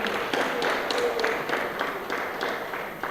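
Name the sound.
audience applause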